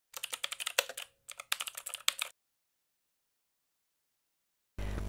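Quick, crisp typing on a computer keyboard in two short bursts close to the microphone, followed by silence and then a low hum.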